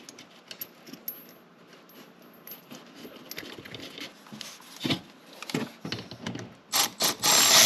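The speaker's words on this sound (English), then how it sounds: "I'm gonna put the bolt in for the bottom sprocket just to hold the axle in." Metal-on-metal ratcheting and clinking as a bolt is fitted to hold the axle for the bottom sprocket of a snowmobile during a track change, with irregular taps and clicks building to louder bursts near the end.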